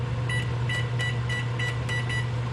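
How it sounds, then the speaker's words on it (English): A kitchen timer is set while cooking fish, giving a run of about six short, bright beeps at a steady pace over a constant low hum. "I'll set the timer over here"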